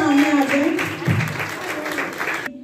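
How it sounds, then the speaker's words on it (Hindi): An audience applauds at an International Day of Persons with Disabilities celebration, a dense wash of clapping that carries on under a speaking voice and then breaks off suddenly. "भरपूर तालियां बजाकर इनकी हौसला अफजाई कीजिए"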